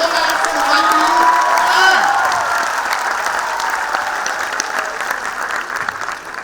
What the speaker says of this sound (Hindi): इन तालियों में से दो ही मतलब है।